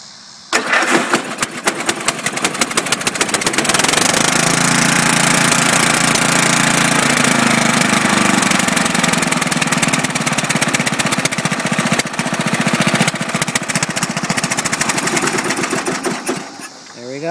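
Murray 11/36 lawn tractor engine, freshly adjusted carburetor with air cleaner refitted, firing up and running steadily at a loud, close, continuous rattling drone for the whole stretch.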